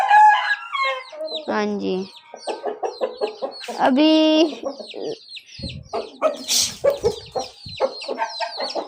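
Village roosters cluck, squawk and crow loudly at close range in repeated calls, with people talking briefly between the bird sounds.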